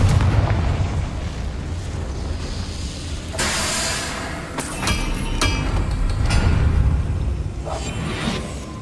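A Confringo fire spell bursts in Hogwarts Legacy with a roaring, rumbling explosion, followed by whooshing blasts and crackling impacts that swell and fade over several seconds.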